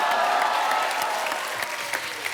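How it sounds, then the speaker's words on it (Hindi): Studio audience at a comedy talk show clapping in a dense, steady round of applause that fades slightly as it continues. "जिन्होंने तालियां बजाई"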